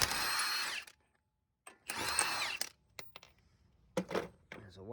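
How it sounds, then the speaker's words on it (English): A Milwaukee impact wrench with a 32mm socket hammers loose the axle nut on a 1992 Nissan Sentra, giving two loud, close rattling bursts separated by a pause, followed by a few sharp metallic clinks. "Now we'll remove that axle nut. 32mm socket and a Milwaukee."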